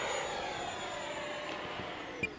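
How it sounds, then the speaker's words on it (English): A jet aircraft passes in the background at an RC flying field, a steady distant broadband roar with a faint whine that holds throughout, with no voices. "that might be a real jet back there"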